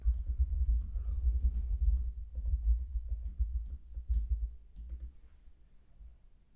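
Keys clatter in short irregular bursts of typing on a computer keyboard as a message is entered, close and moderately quiet, with no voices.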